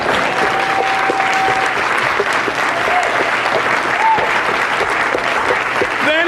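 A crowd cheers and applauds loudly and continuously, dense clapping mixed with whoops and rising shouts throughout.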